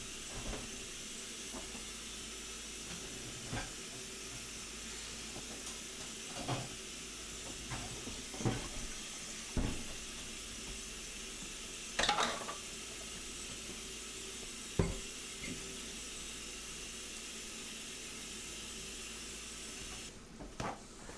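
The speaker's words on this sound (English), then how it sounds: "I got the water going way too loud for the stream over here." Kitchen tap water running steadily during dinner preparation for an angel food cake with berry compote, a constant hissing stream in a room, with faint knocks and kitchen clatter over it.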